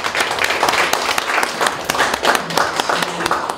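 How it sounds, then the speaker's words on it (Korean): A lecture audience applauds together at a Korean lifelong-education CEO course talk, a dense, steady wash of many hands clapping that runs throughout with little variation in level. "하늘에 대해서 박수 한번 치세요."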